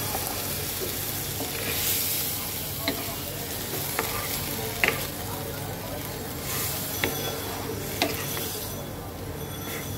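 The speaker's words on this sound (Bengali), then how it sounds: "সবজিটা কিন্তু আমি খুব সুন্দর করে কষিয়ে নিয়েছি।" Vegetables sauté and sizzle in a pan for a fish curry, a constant close frying hiss broken by scattered clicks and scrapes of stirring.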